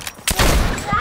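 Gunfire in the video game Fortnite, a loud, dense burst of rapid shots that swamps the short moment.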